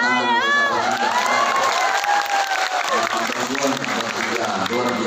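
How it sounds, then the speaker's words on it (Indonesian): A large audience at a sholawat religious gathering in Hong Kong claps and cheers loudly and continuously, with shouts and whoops, children's voices and a sustained crowd roar. "Sahabat Anja, tepuk tangan untuk sahabat"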